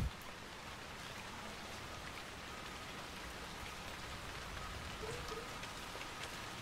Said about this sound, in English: So why does it always have to rain?